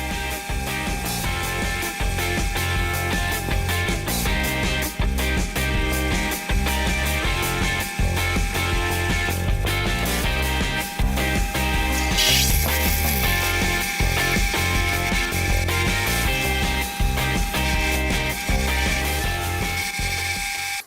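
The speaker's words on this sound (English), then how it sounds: "The next job is to bore an 11mm hole to suit the motor spindle." A metal lathe bores an 11mm hole to fit a motor spindle while building a tool and cutter grinder, giving a steady, loud mechanical whir with rhythmic ratcheting clicks that runs close and without a break for the whole stretch.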